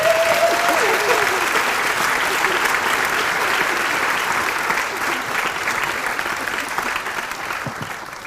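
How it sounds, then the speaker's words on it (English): Applause from a conference audience at a placemaking event, a dense, sustained wash of many hands clapping that holds steady for several seconds before tapering slightly, no voices. "Everybody clap it up for Jake Day."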